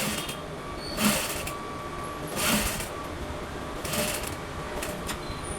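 A sewing machine stitches a boat neck on fabric in several short runs of rapid whirring, each burst lasting under a second with quieter pauses between, close by and without talk.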